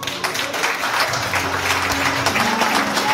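A church congregation applauding to praise the Lord, a dense, loud, continuous wash of clapping filling a large room, with faint voices beneath.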